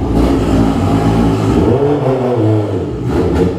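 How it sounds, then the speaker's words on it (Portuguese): A Honda CB650 motorcycle engine revs loudly close by, its throaty roar rising and falling through two throttle blips with a brief dip between, no talking over it. "E berra ainda no motoca dele."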